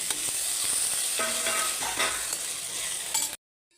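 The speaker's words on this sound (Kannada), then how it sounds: "ಎರಡು ಈರುಳ್ಳಿ ಹಾಕ್ಕೊಳ್ತಾ ಇದ್ದೀನಿ ಫ್ರೈ ಫ್ರೈ ಆಗ್ತಿದ್ದಂಗೆ ಎರಡು ಟೊಮೆಟೊ ತೊಗೊಂಡಿದ್ದೀನಿ ಅದನ್ನು ಕೂಡ ಹಾಕ್ಕೊಳ್ತಾ ಇದ್ದೀನಿ" Onions and tomatoes frying in oil for a kurma, a steady broadband sizzle with light stirring scrapes and clinks, close and continuous, cutting off abruptly near the end.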